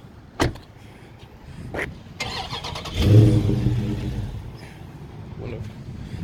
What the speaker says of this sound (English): It's push start too. Push start. Woo! Aggressive on the start up, boy.